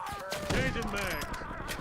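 Gunfire in Call of Duty Warzone crackles in rapid bursts mixed with game effects and a voice, dense and continuous across a short moment.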